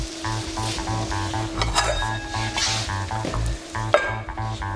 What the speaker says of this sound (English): That's frying in butter,